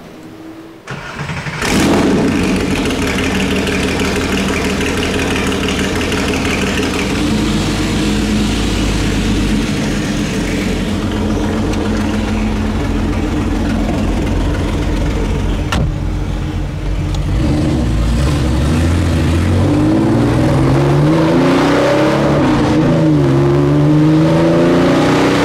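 A 1976 Porsche 911S outlaw engine cranks and catches after a short silence, then idles loud and close before climbing through repeated revs as the car pulls away, with a steady, throaty drone throughout.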